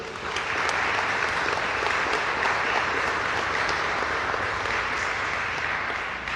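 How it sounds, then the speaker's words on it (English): Sustained applause from a graduation audience honouring parents at a junior police academy ceremony, a dense, steady wash of many hands clapping at even loudness throughout, with no voices standing out. "Give your parents a round of applause, because they deserve it."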